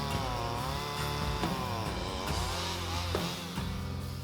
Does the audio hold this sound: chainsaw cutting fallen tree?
yes